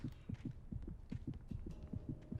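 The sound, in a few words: heartbeat sound effect in video game Alan Wake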